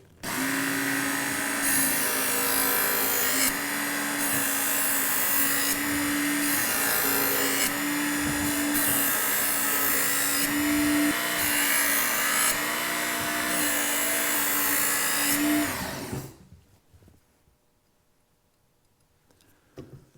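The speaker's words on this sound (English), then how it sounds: "You can use this sharpening system to sharpen a big hunting knife." Knife sharpening system drawing a stone repeatedly along a big hunting knife blade, a loud, steady rhythmic scraping with regular strokes for about sixteen seconds, then stopping to near silence.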